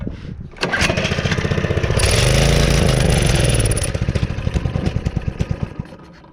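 A factory minibike engine that is leaking fuel runs loud and close as its throttle is blipped, rising to a steady high rev before falling back to a loping, chugging idle.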